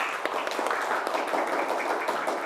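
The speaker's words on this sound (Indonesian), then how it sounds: "tepuk tangan untuk kita semua" An audience at a coding and artificial intelligence lesson claps together, a dense, continuous patter of many hands lasting a couple of seconds, with no clear talking over it.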